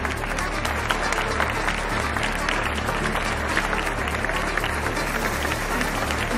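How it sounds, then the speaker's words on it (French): Dense, steady audience applause at the Liège Aide Haïti 2023 charity event, 13th edition, fills the whole stretch at an even, sustained level with no break. "Ça, elle mérite vraiment vos applaudissements."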